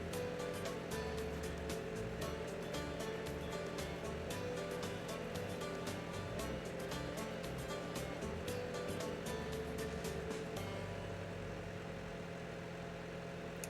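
Tractor engine in Farming Simulator 18, a steady droning hum running continuously at close range, with a bright crackling texture on top that thins out near the end.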